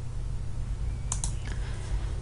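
Computer keyboard typing during spreadsheet formula entry, a few quiet key clicks near the middle over a steady low hum, the last press likely the Enter key.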